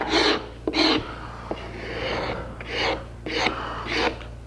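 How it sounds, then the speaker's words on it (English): A Woodcraft deluxe scraper rasps across a wooden chair seat being scooped out, making about half a dozen close, rhythmic scraping strokes with short pauses between them. "This is a Woodcraft, what is it, the deluxe scraper set. This is neat, also for in here. And it's scraping."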